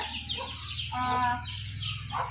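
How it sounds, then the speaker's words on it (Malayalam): Twenty-day-old chickens cluck softly nearby, a few short calls rising over a steady low hum of background noise. "അപ്പോൾ ഇവരാണ് കോഴികൾ നല്ല വളർന്നിട്ടുണ്ട്"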